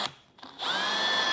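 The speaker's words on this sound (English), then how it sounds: "I'm gonna drill 4 3/16 holes at the corner" A power drill bores 3/16-inch holes in the corner of a 2024 Harley-Davidson Tour Pak cutout, with a short click and brief spin before the motor settles into a steady, close, high whine.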